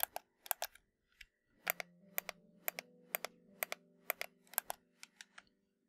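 Sharp, distinct clicks come one after another at an uneven pace, close and crisp, over a faint low tone in a quiet room.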